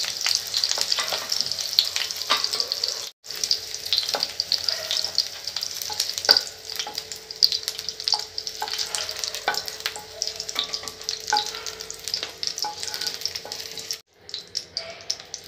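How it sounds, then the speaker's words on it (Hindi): Paneer pieces fry in hot oil with a continuous bright sizzle and crackle that runs close and steady, broken only by two brief pauses and occasional light stirring taps. "इतना मैं पनीरखिनि एनेदरे फ्राई करि ललु"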